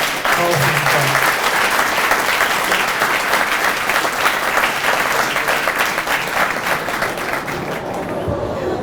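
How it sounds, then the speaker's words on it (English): Loud, dense audience applause for the Roseville High School 2020 Athletic Hall of Fame class, steady clapping from a large crowd in the bleachers that fills the whole stretch before tapering slightly at the end. "one more round of applause for the 2020 Hall of Fame class"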